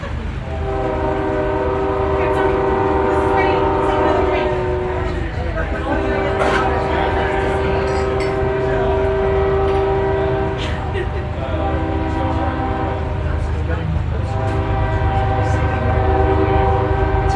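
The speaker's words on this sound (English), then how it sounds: "It's a very playful train today." A train passes close by, its horn sounding in long sustained blasts over heavy continuous rumble and rail noise through the whole stretch, with a few shorter horn bursts near the end.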